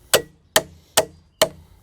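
Four sharp hammer blows drive a metal joist hanger tab into wood while a shed foundation goes together, each strike crisp and evenly spaced about a second apart, close and alone.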